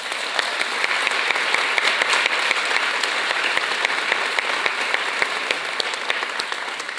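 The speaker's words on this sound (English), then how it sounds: "Round of applause for Jack." Steady, dense applause from an audience at a formal dinner, honoring a man in the crowd, holding at an even level throughout without talk.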